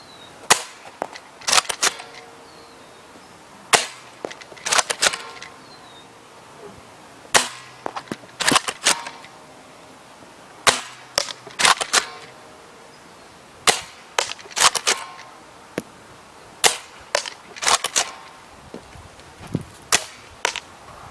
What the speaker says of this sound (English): now I'm going to be shooting a man-sized target at 100 feet away